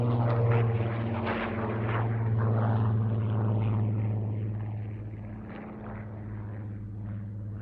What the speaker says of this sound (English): That was Chris Hadlow with the Rolls-Royce Mk19 Spitfire